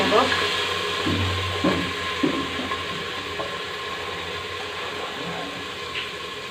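Washed masoor lentils go into hot oil in a pan and set off a steady, dense sizzling hiss, with a few soft stirring knocks near the start.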